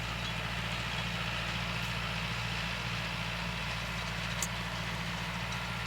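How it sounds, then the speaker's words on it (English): A tractor with a bale spear on its front end loader works in a hay pasture loading big round bales onto a trailer; a steady, low diesel engine drone holds throughout with no talk. "They got their bale spear in the front there of the front end loader to load the big round bales on the trailer"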